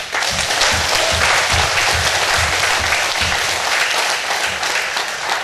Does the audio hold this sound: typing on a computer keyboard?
no